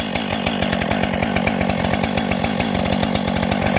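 Husqvarna-style 500i chainsaw fitted with a 24-inch bar and full-chisel chain, running steadily at high revs outdoors among trees, loud and close with a continuous buzzing drone.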